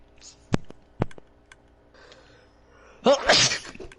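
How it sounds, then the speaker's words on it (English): A single sudden human sneeze near the end, close and loud, after a few sharp clicks and light keyboard-like taps in a quiet room. "I gotta sneeze again, but it won't come out."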